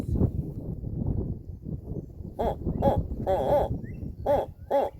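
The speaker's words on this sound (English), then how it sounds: "their call is not the typical hoo, hoo that we associate with owls in general" A barred owl calls with a series of rhythmic hooting notes, rising and falling, over a low rumbling background.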